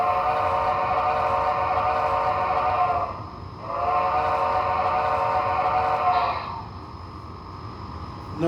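Two long, harmonically rich steam whistle blasts from an Intermountain Southern Pacific 4-8-8-2 AC-12 Cab Forward model locomotive sound decoder sound back to back with a short gap, followed by a quieter engine hum.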